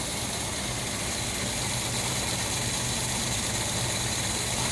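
A Ford Del Rey car engine idles steadily while warming up, a constant close rumble with a faint vibrating hum and no voices over it.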